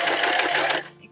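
A sewing machine stitches two fabric sides with loops set in the middle, a loud rapid whirring run that stops abruptly near the end.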